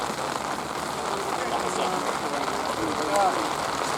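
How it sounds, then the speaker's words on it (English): Steady rain falls across an outdoor rugby union match in Trinidad and Tobago, a dense even hiss filling the scene with faint crowd and commentary murmur beneath. "Rain coming in."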